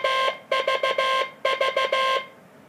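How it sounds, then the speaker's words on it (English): A steady electronic Morse code tone beeps in quick, evenly spaced pulses, grouped into two short bursts of dits with brief gaps, clear and close. "an endless string of dits"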